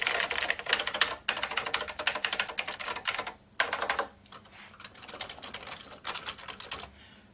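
Rapid bursts of loud clacky typing on a MechBoard64 mechanical keyboard for the Commodore 64, fitted with blue switches, coming in close fast runs separated by short pauses.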